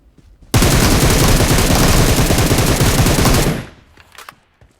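Sustained burst of rapid automatic gunfire in a mobile shooter game such as PUBG, loud and dense for about three seconds before cutting off, followed by a few faint scattered shots.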